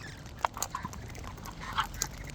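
Wild geese honk outdoors in a few short, scattered calls, faint and somewhat distant against quiet background noise.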